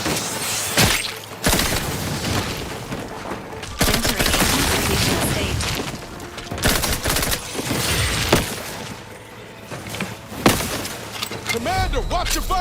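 Gunfire in The Outer Worlds 2 rings out in repeated loud bursts and single shots, with game sound effects and some voices between them.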